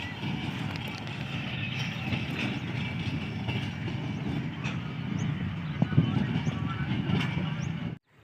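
Goods train departing Sanawan on the loop line behind an HGMU-30 diesel locomotive, heard as a loud, continuous rumbling roll with scattered clanks before it cuts off abruptly.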